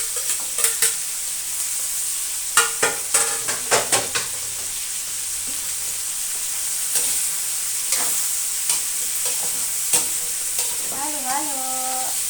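Chayote being stir-fried in a pan gives a steady sizzle, broken by irregular scrapes and clacks of a utensil stirring against the pan.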